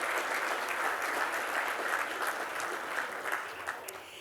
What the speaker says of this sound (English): So let's give Independent Bank a round of applause.